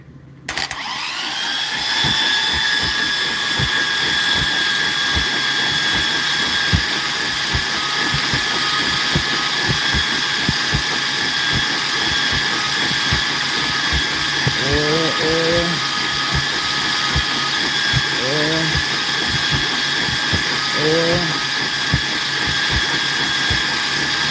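A 5.3 engine is cranked over on its starter to build oil pressure, giving a steady, rapid rhythmic churning that runs unbroken for the whole stretch, with a few brief voices breaking in partway through.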